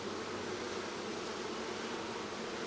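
Wild honeybees swarm around their colony in an old hickory log, producing a dense, steady buzzing hum that fills the space without pause.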